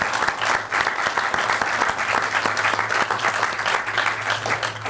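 Sustained audience applause at a Veterans Day program at Vine Grove, steady dense clapping throughout, loud and close, with a low hum underneath.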